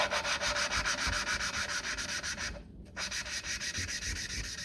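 An engine valve being lapped, rotated back and forth against its seat in a fast, steady, gritty rubbing rhythm that is close and even, with one short pause as the valve is lifted and set back down.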